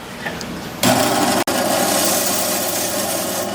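A Dremel rotary tool spins up abruptly and whines steadily while cutting a coral frag, a loud, close, continuous buzzing grind with one brief dropout.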